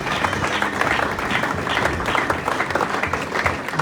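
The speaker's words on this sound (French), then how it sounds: "Can we applaud for the King?" A church congregation claps in sustained, dense applause that fills the room evenly from start to finish, with faint voices mixed in.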